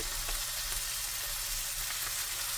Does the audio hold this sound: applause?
no